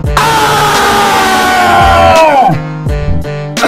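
A person screams loudly into a microphone: one long, strained, sustained scream, then a few shorter shouted bursts, all close, harsh and alone.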